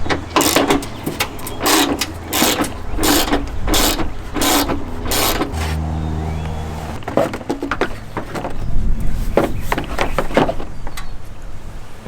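A hand ratchet backs out 7mm and 10mm screws on a Chevy Equinox headlight housing, clicking in quick close bursts. A steadier low whir comes between the runs of clicks.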